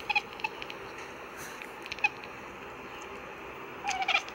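A cat makes soft, bird-like chirps: faint, quick bursts near the start, one around the two-second mark, and a brighter cluster toward the end, over a quiet background.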